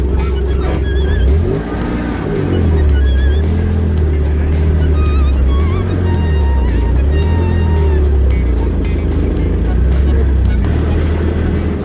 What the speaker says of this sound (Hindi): नेशनल हाईवे पर गाड़ियों का जाम लगा हुआ।